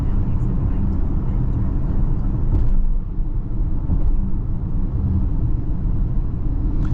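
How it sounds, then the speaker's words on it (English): Inside a 2023 Audi Q8 cruising on the highway, a steady low rumble of road and tyre noise fills the cabin at a constant level. "just cruising on the highway, very comfortable, very minimal road noise"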